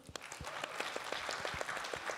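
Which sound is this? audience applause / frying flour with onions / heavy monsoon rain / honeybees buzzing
audience applause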